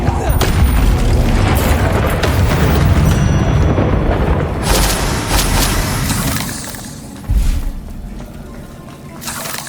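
Spell explosions from Bombarda and Confringo in the Hogwarts Legacy video game boom out in a dense, continuous barrage of loud blasts and rumbling bursts, with a sharp extra impact near the end.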